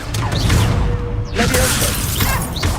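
A fire-blast spell from Hogwarts Legacy goes off in combat with shattering, crashing bursts and whooshing sweeps over a busy game-sound bed, loud and close.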